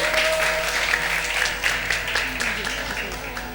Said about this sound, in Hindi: बहुत सारी तालियों में नबीहा